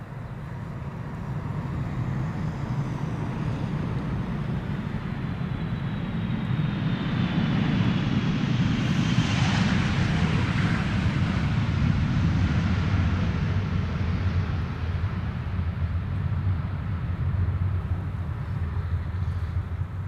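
A jet airliner rumbles steadily as it lands at Amsterdam Schiphol Airport, its engine roar swelling and a whine sweeping across midway, then a broad sustained roar as it rolls out.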